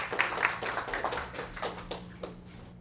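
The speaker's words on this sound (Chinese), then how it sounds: "那我们以热烈的掌声欢迎他" A lecture audience claps to welcome a speaker, a moderate burst of scattered hand claps that thins out and fades over a few seconds.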